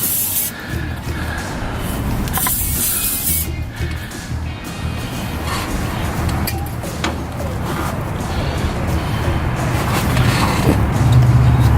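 Aerosol spray hisses in long bursts over several seconds, close up, cleaning a rusty outer tie rod end on a 1996-2007 Dodge Caravan, with faint creaks and rustling between blasts and no talking.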